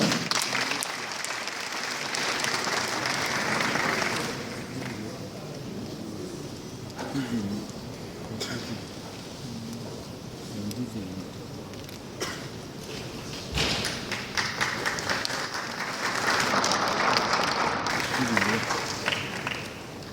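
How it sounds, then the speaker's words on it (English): Sustained audience applause fills a climate change summit hall for most of the stretch, loud and continuous, swelling again toward the end, with a few thumps and a voice speaking over the clapping in the middle. "Please a round of applause for her."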